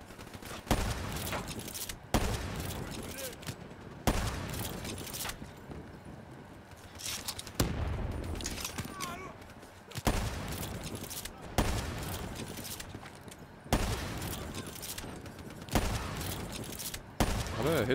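Gunfire in Call of Duty Black Ops 3 comes as loud, repeated bursts, roughly every couple of seconds, each fading into quieter game noise before the next volley.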